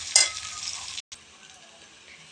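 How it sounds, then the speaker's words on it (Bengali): Chopped onion frying and being stirred in a pan for prawn malai curry: a close, bright sizzle with a scraping stir at the start, a brief silent break, then a steadier, softer sizzle. "পেঁয়াজটাকে একটু ভালো করে ভেজে নেব।"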